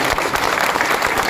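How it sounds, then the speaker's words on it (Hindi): A room of attendees at a crypto meeting welcomes leaders with loud, close, continuous clapping in a brief, dense burst. "बाकी सारे लीडर्स सर जबरदस्त तालियों से वेलकम करें"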